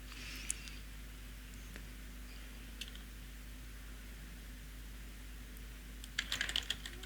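Computer keyboard typing while entering text into a Microsoft Access complaint form: a short burst of quick, faint key clicks near the end over a steady electrical hum and background hiss.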